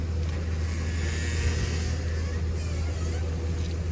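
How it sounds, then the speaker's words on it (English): A pickup truck engine idles steadily in the background, charging its battery, a constant low rumble with faint wind and no voices. "The other noise you hear is my truck right behind me"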